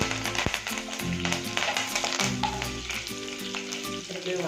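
Curry leaves and okra fry in hot oil for a palya, giving a close, loud, crackling sizzle with frequent spatters and occasional utensil taps, no talking.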